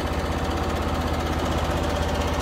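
A lawn mower engine runs steadily while cutting ridiculously thick, thigh-high grass in a field, a loud continuous chugging drone with rapid low pulsing and strong vibration, close up with no voices.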